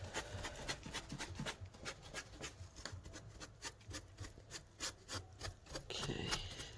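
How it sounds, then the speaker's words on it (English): Black wax dragged across distressed wood furniture with an applicator, giving a steady rasping rub in repeated strokes, close and moderately loud, with no talking. "Drag up some of the wax so that it fades up into the"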